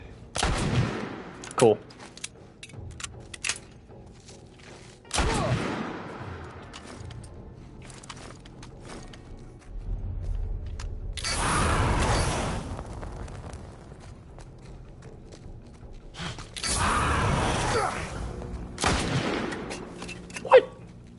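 Gunfire erupts in The Last of Us Part I, several loud bursts and heavy blasts separated by quieter stretches, with a player briefly speaking between them.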